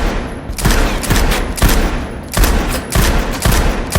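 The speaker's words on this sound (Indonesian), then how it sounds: "ia juga berlatih menembak." Rapid bursts of gunfire at shooting practice in a film, loud and close, coming in repeated volleys roughly every second with no talk.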